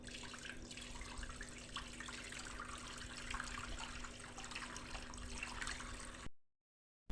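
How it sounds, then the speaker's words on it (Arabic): Hot water pours steadily into a casserole dish in a home kitchen, a continuous splashing, hissing stream at close range that cuts off abruptly near the end. "رايحين ندير هنا في كاسرونه سخنت ماء سخون"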